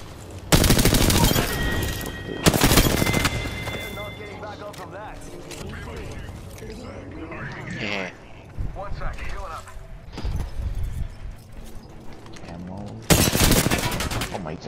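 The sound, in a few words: gunfire from a gun in a video game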